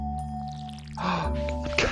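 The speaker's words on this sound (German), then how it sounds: "Oh, man kann es mit Wasser füllen." Water filling a dog's water bowl in the farming game Stardew Valley, a short liquid pouring and splashing effect entering midway and lasting about a second over steady game music.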